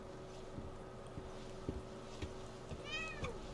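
Cat meows in The Medium video game, a short rising-falling call near the end over a steady low ambient game hum with faint thuds.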